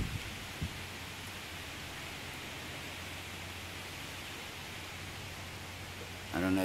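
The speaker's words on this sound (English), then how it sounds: "Now the rain is getting harder." Steady, even hiss of rain falling during Tropical Storm Bertha near the Caribbean Sea, holding a constant level throughout with a brief louder burst at the very end.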